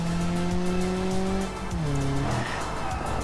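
Tires squeal as a car slides toward the sand in a BeamNG racing game on the Nordschleife, a steady high-pitched screech over engine drone that bends downward and breaks up after about a second and a half.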